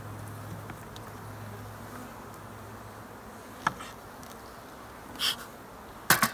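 Honeybees hum softly around an open hive where pollen is being stored, a faint continuous buzz with a few light taps and knocks now and then.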